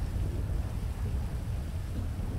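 In a GTA 5 game scene, thunder brought on by Thor's hammer rumbles as a continuous low, heavy roll mixed with rain-like hiss, steady and loud throughout with no voices.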